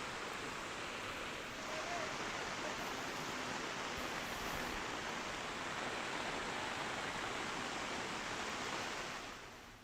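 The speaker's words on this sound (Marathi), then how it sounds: "इंद्रायणी नदी दुथडी भरून वाहू लागली आहे." The Indrayani river at Dehu runs in flood over its ghats and steps, a continuous broad rushing roar of water, steady and fairly faint, with no clear voices.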